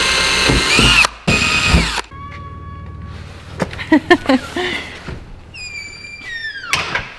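A power drill whines in short bursts as it bores into a car's trunk, mixed with clunks and thumps of handling and metal, with people talking in between.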